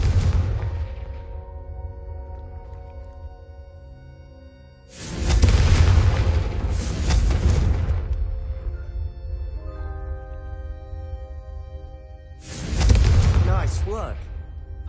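Fiery Confringo spell blasts cast in Hogwarts Legacy, two loud bursts roughly eight seconds apart over a steady game music bed, each a sharp whooshing explosion that trails off.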